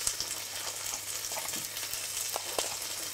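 A little butter sizzles as it melts into lamb stock warming in a pan, producing a steady, close frying hiss with a few soft stirring clicks and no talk.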